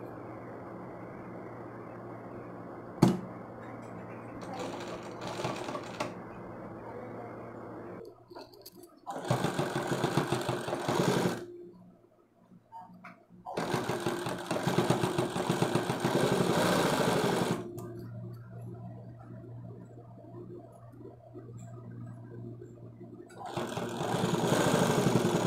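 A sewing machine stitching thin piping onto a blouse collar, its motor whirring in repeated bursts of varying length, separated by brief pauses and a low steady hum.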